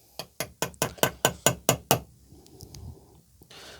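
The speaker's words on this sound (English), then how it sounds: "Knocking it out a bit at a time," Nine sharp, evenly spaced hammer blows ring out up close, driving a bushing out of a Cavalier MK2 engine with metallic knocks, then a few faint clinks and handling noises in a quiet workshop.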